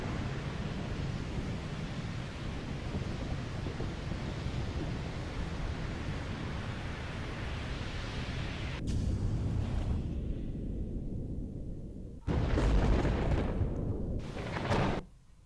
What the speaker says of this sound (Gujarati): દરિયા કિનારે 10 થી 15 ફૂટ ઊંચા મોજા ઉછળી રહ્યા છે